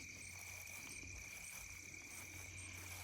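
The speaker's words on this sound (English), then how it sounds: "Outside of the crickets and the birds. It's very peaceful." Crickets chirp on a quiet farm, a faint, steady high trill that carries on unbroken over a low background hum.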